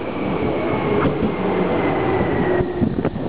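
Tokyu Den-en-toshi Line 8500 series express train at Nagatsuta station in Japan, a loud, steady rolling rumble with a faint motor whine running throughout, no voices.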